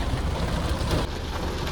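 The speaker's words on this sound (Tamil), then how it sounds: "இந்த மழை வந்துச்சுன்னா இந்த ட்ராப்ஸோட சவுண்டு தான்" Steady patter of raindrops drumming on a car, close and dense with an even hiss of rain throughout and no voices.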